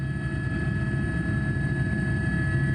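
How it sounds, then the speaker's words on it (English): A Texas DPS helicopter flying over the Del Rio border area gives a steady, loud, unbroken rotor and engine drone with a constant whine, filling the whole clip with no talk. "he's in the Del Rio area in a DPS helicopter"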